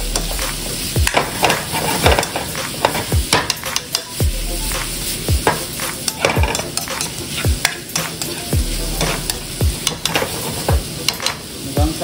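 Onion, carrots and hotdog stir-fried together in a pan, a loud steady sizzle broken by repeated sharp scrapes and clacks of a utensil stirring against the pan, close up with no talking.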